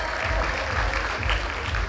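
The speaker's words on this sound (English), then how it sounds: "Please give a big round of applause." An audience at a college freshers party and festival inauguration applauds, a loud, steady wash of many hands clapping throughout, close and continuous with no talking.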